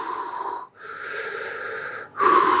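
Slow, deep breaths during a massage therapy session for an injury, a long raspy inhale and exhale close to the microphone, with a brief pause between them.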